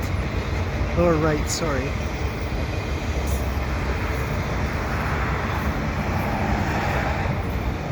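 A CP freight train of double-stack containers and auto racks rolls past in a steady, continuous rumble under bridges at Des Sources, with a brief spoken apology over the noise.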